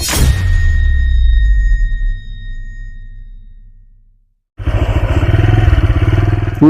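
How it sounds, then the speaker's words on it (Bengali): A motorcycle ridden along a narrow path through a bamboo grove: engine hum and clatter that fade out to near silence, then return loud and close as the bike picks up again. "বাস বাগানের মধ্যে যে বাইক চালাচ্ছি"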